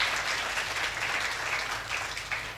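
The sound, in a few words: audience applause at a poetry stage show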